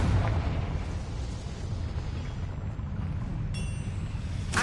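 Confringo blasting spell detonating in Hogwarts Legacy, a dense, rumbling explosion that stays loud and full throughout, with a bright crackle near the end.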